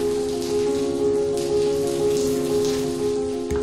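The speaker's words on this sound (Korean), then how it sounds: "때이른 더위를 식히는 비가 내리는 오후" Steady afternoon rain falls on surfaces in Cambodia, a continuous even hiss of drops with a faint background hum and no voices.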